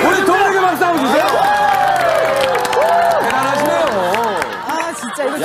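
A television variety studio audience cheers and claps, with a loud, continuous crowd roar sitting under excited, animated voices that talk and shout throughout.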